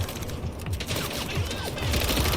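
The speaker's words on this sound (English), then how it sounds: "Gunfire." A rapid burst of gunfire in the video game MindsEye crackles in quick succession, dense and sustained, with distant-sounding shots layered over a noisy background.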